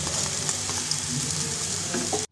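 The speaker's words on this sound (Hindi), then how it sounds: "फिर इसमें अभी कुकिंग ऑयल डाला है और इसको मैं फ्राई कर रही हूँ।" Peas fry in cooking oil in a kadai, giving a steady, close, dense sizzle with light stirring and no voices, cut off sharply at the very end.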